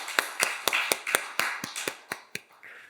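A church congregation claps in a steady, even rhythm during a worship service, about a dozen sharp claps in unison that fade slightly toward the end.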